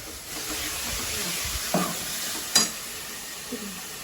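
Hot oil hisses and crackles steadily as spices fry, with a couple of sharp spatters and a clink of stirring.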